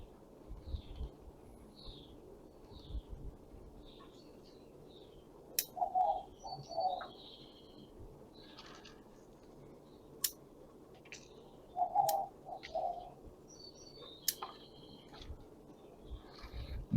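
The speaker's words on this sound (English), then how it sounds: "I don't know if you can hear all these birds in the background." Birds call outdoors near a patio, with pairs of soft cooing notes and scattered chirps and ticks at a moderate distance over low ambient noise.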